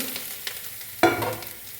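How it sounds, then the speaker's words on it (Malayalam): A brief, sharp sizzle erupts as grated coconut hits hot oil, then settles into a softer crackle after a few light stirring scrapes. "അങ്ങനെ നമ്മൾ തേങ്ങ വറക്കാൻ പോവുകയാണ്"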